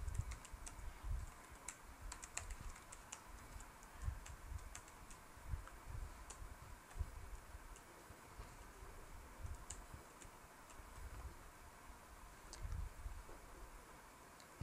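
Steady typing on a computer keyboard while writing insert-query code for an ASP.NET image upload, with quiet, close key clicks arriving in irregular bursts over a soft background hum and no voices.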